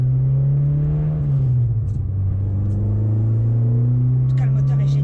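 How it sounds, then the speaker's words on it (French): The engine of an Italian GTI hatchback drones loud and close from inside the car, a steady rumble that dips slightly and then climbs as it pulls, with a voice talking over it. "le moteur est génial, j'adore."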